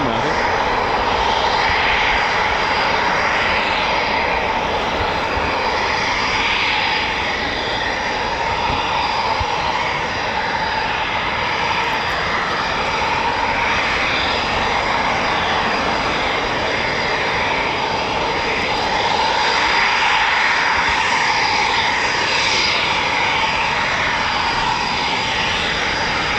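RAF Eurofighter Typhoon FGR4 jet being towed or taxiing across a runway at an air station, a continuous loud engine roar and whine swelling and easing slightly over nearly half a minute, heard from a distance with people talking nearby.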